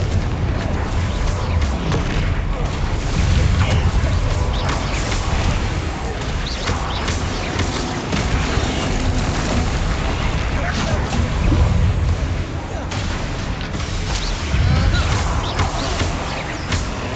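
Confringo spell blasts boom during Hogwarts Legacy combat. The loud, dense, rumbling explosions come in repeated waves through a constant din of fighting, with a voice calling out now and then.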